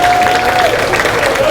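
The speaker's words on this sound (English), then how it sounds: "Give him a round of applause." Crowd applause at a bare knuckle fighting championship weigh-in, loud continuous clapping from a close audience over a brief stretch, with a faint tonal whine running through it.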